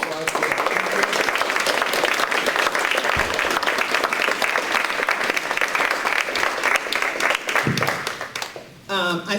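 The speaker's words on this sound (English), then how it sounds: "please give a warm round of applause to" Audience applause fills a community forum on reparations, a dense sustained clapping from a crowd that runs loud for most of the stretch, briefly dipping and ending with scattered claps.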